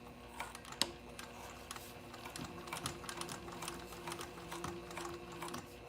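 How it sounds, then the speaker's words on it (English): A home sewing machine runs a quarter-inch seam joining the bottom of a packing cube to its zipper panel, with rapid, steady ticking stitches and a few sharper clicks, close and unbroken, with no voices. "Now let's stitch it at a 1/4 inch seam allowance"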